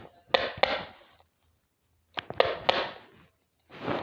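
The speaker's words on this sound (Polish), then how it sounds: "To był dźwięk młotka." Several sharp hammer knocks land in quick bursts, a pair, then a cluster of three, each with a short rattling ring, close and fairly loud, separated by a silent gap.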